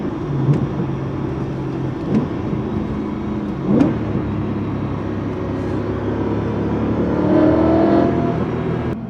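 A BMW M3 engine revs up and drops back repeatedly, with quick blips between downshifts, loud and close, climbing to a strong pull near the end.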